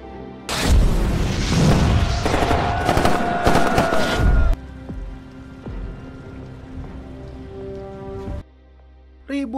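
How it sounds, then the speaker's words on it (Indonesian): Rapid bursts of loud gunfire from a war film crackle over several seconds, then give way to a quieter, tense rumbling backdrop that cuts off near the end. "Naas bagi Sophie, dia tewas terkena tembakan peluru yang dilayangkan dari senjata Daniel."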